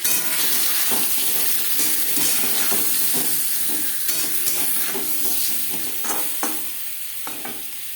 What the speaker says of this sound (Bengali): লবণ হলুদ দিয়ে আলু ভেজে নেওয়া হয়ে গেছে